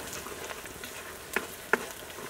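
Sliced onions and green chillies frying in oil in a pan for a chicken curry and ghee rice meal, a steady close sizzle with a couple of sharp spatula taps on the pan.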